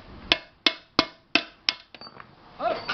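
A hammer knocks the rivet out of a pressure cooker lid's safety seal with six sharp, evenly spaced metallic taps, close and clear, followed by a brief scraping rattle at the end.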